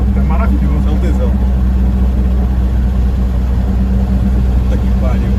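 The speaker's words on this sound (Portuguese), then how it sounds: "A mistura do barulho da ITB com o do escape É maravilhoso." BMW 320i E21 engine running with individual throttle bodies, its intake roar blending with the exhaust note, a steady loud drone heard from inside the car under continuous talk.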